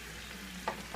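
Turkey sears in a hot pan over a fire, giving a steady close sizzle with a couple of brief stirring scrapes near the end.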